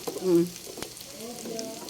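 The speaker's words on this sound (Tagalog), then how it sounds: "konting prito na lang yan" Soft sizzling of an okra omelette frying in a pan, a low steady crackle with a brief louder hiss near the start.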